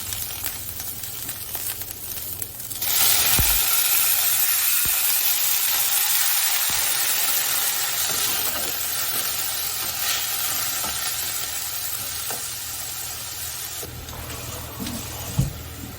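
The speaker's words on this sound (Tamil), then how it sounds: "வரமிளகா, வெங்காயம் இது எல்லாத்தையும் போட்டுட்டு நல்லா ஃப்ரை பண்ணிக்கோங்க" Dried red chillies and onions frying in a pan, a loud sustained hiss of sizzling oil that swells after a quieter start, with occasional sharp clinks of a utensil, close up.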